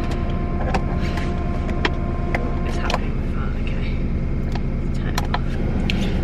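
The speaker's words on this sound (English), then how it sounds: "i have to take my car for its mot today so i'm just starting it here" A car engine runs steadily and loudly at close range, with a constant low drone and scattered sharp clicks, while muffled voices are faintly present.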